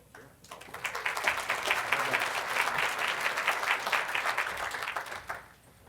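An audience at a community engagement partnerships award ceremony breaks into applause that swells quickly, holds as a moderately quiet patter of many hands, then tapers off near the end.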